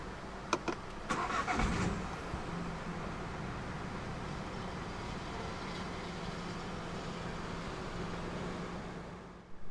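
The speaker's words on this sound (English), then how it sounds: "Put your foot on the clutch and press the start button to the left of the steering wheel." A 2015 BMW 218i Active Tourer with keyless push-button start cranks over with a short burst of clicks and whirring, then settles into a steady, fairly quiet idle that runs on alone.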